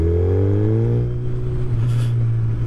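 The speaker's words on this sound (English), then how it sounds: "giving it some gas and it sputters a little bit" A Suzuki Hayabusa motorcycle engine revs under throttle and sputters a little in cold weather, a loud close steady drone with rising and falling pitch and a brief rough patch, no talk.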